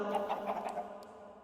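Chickens in a video game cluck in a quick run of soft, repeated notes inside tunnels, moderately close and under a steady background hum.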